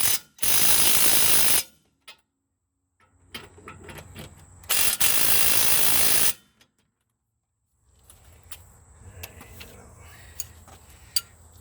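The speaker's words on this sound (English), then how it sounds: "I'm just going to tighten the living hell out of it." Ratchet tightening large front wheel bearing bolts on a 2004 Dodge Ram 1500, heard as two loud bursts of rapid clicking with quieter metallic handling and pauses between them.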